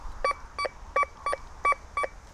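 A Golden Mask metal detector with a Spider coil, swept over a coin buried about 10 cm deep beneath a nail, gives a series of short, regular electronic beeps, about seven evenly spaced tones that sound clear and close.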